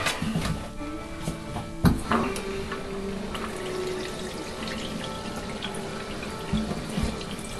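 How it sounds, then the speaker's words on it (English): Steady running water from a tap pours and splashes continuously while wetting a Maine Coon cat, with small drips and a brief louder splash partway through; no talking. "So I'll get the water on her, and then I'm just going to wet her"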